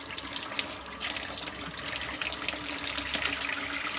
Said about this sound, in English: I need to fill the sink back up again